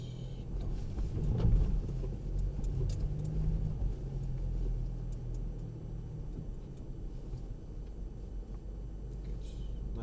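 A Mercedes-Benz 4x4 crawls up a slope at 2 mph, its engine a low, steady rumble close by that swells slightly early on and then holds even.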